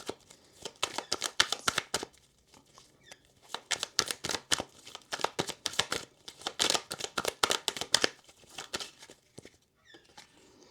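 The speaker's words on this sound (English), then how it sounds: "As I was shuffling the deck" A tarot card deck is shuffled close by in bursts of quick, crisp riffling and slapping card flutters, separated by short pauses and trailing off into a few softer taps at the end.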